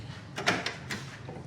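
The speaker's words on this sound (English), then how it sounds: "Doors open and closed." A door on a 1965 Pontiac GTO convertible with Tri-Power is worked open and shut, giving a few soft, close clunks and rattles within about a second over quiet room noise.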